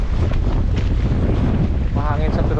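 Strong gusts buffet the microphone on a boat at sea near the shore on a sunny day, a loud low roar with a faint voice briefly breaking through near the end.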